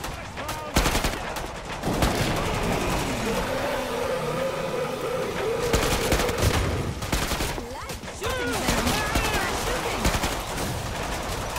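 Rapid rifle fire in the Killing Floor 2 shooter game, loud bursts of shots repeating across the whole stretch amid game effects, with voices talking in places.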